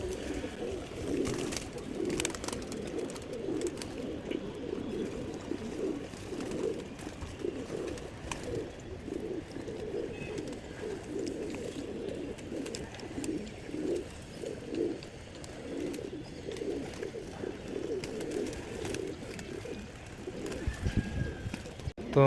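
Pigeons bathing in a water tray coo repeatedly in low, rhythmic throbbing calls, with light splashing and fluttering mixed in, steady and close throughout, with a brief louder flurry near the end.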